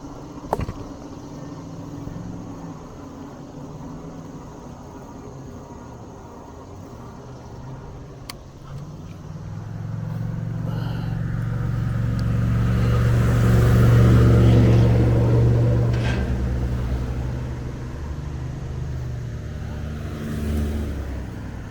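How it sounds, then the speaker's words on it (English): Several cars driving up behind an e-bike rider on a suburban Baltimore road, a swelling engine and tyre roar that builds to a loud pass midway and then fades, with a voice talking over it. "There's a bunch of cars behind me."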